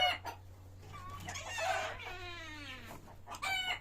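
Bantam Cochin chickens cluck and chirp nearby, with a rooster crowing in a drawn-out call across the middle and high chick peeps around it.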